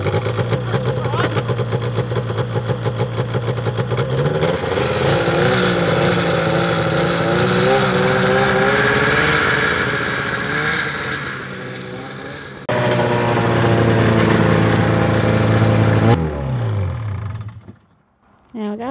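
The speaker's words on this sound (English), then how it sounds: "I guess I'll just do a startup real quick." A snowmobile engine starts up and runs close by, a loud steady mechanical drone with rising and falling revs and a brief dip before it settles into idle.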